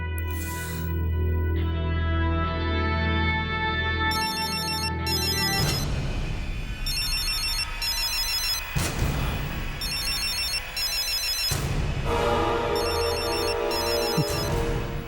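A mobile phone ringtone for an incoming call, playing loud and close as a repeating melodic tune that swells into a fuller, layered ring after a few seconds, with no talk over it.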